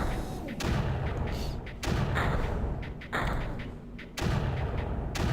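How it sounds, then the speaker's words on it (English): Mortars firing in the strategy video game Creeper World, heavy repeated thumps landing roughly every second and a half, each a broad booming burst over a steady low rumble of game noise. "Keep the mortars running though."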